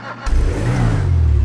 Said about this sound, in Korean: 배기음은 그냥 시민차 정도